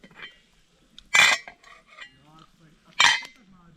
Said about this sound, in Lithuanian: Uždėjau puodą.